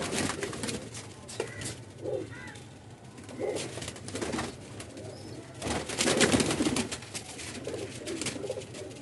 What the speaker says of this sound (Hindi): एक नीला कमग्गर कबूतर मेरे हाथ में आ गया